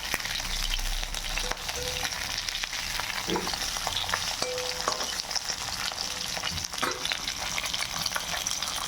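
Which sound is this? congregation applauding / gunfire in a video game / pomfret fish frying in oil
pomfret fish frying in oil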